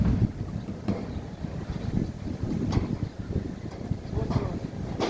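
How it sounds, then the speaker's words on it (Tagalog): Strong wind on a rooftop buffeting the microphone in low, gusty rumbles, with a voice faintly heard under the blustery noise. "Malakas itong hangin sa taas."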